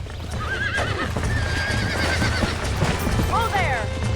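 Horse in the Red Dead Redemption video game whinnying twice with a rising, wavering neigh over steady clip-clopping hooves, close and loud, with game ambience beneath.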